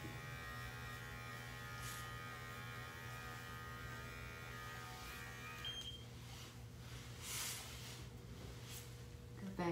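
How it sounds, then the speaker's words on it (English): Electric dog clippers with a number 40 blade buzzing steadily while trimming a poodle's coat, a constant close hum with faint background noise and no speech. "So I'm taking my clipper straight in with a light touch and sharpening up the edges."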